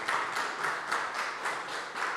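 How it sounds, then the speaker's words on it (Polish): Audience applause greets a guest at the Big Book Festival, a steady wash of clapping heard from a moderate distance with no talk over it. "Brawa."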